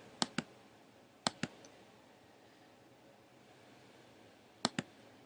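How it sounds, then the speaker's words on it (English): Mouse clicks during Salesforce setup, arriving in three quick pairs of sharp, close double-clicks separated by quiet pauses, with no talking. "I'm going to click on the little wrench"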